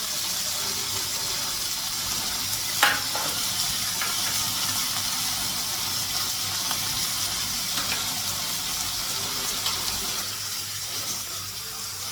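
Mutton cooking in a pan over a gas flame gives off a continuous, fairly loud broadband hiss and sizzle that holds steady throughout, with a faint clink near the start.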